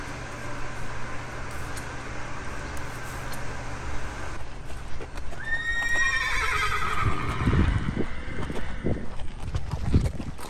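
Racehorses heading up to the races, one giving a loud, close whinny midway, followed by heavy clip-clop hoofbeats and thuds as they walk along, over a low background hum.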